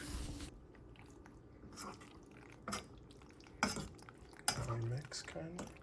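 Macaroni noodles get stirred into cheese sauce in a pot: wet, sticky squelches and scattered clinks of a utensil against cookware, close and soft, arriving in irregular bursts.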